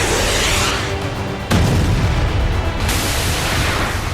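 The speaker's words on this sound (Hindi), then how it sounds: "ईरान पर बमों की बौछार" Bombs falling and exploding in Iran: a loud, heavy boom hits partway through and rolls out into a sustained rumble over dense, continuous blast noise.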